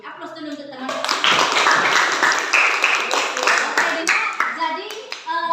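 Classroom applause from a group of children, a burst of brisk clapping that fills most of the moment, with young voices and chatter mixed in and trailing off toward the end.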